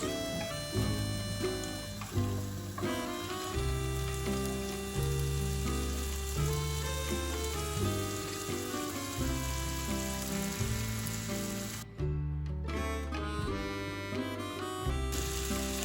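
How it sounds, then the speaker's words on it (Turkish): Sautéed meat tipped into a pot of rice for chestnut pilaf sizzles and fries steadily, a constant crackling hiss running beneath louder background music throughout. "Şimdi içerisine kavurduğumuz etlerimizi döküyoruz."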